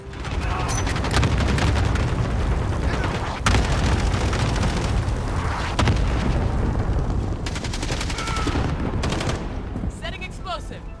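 Explosions and heavy gunfire rumble through a Modern Warfare match during an incoming strike, with loud, dense bursts and sharp cracks nearly continuous over about eleven seconds, and voices talking beneath the din.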